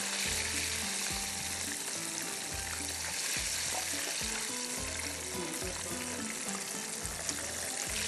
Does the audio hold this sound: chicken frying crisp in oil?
yes